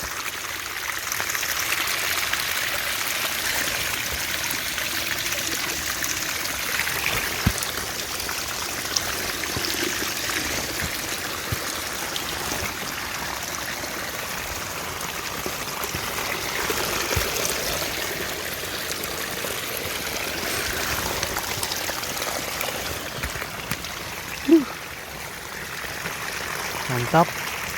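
Rainwater streams steadily down a flooded trail on Mount Cikuray during constant rain, a continuous rushing trickle throughout with a couple of brief knocks near the end.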